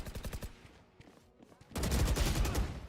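Gunfire in the video game Valorant: a few quick shots at the start, then a dense, loud burst of rapid automatic fire after a short lull, with a voice talking briefly beneath.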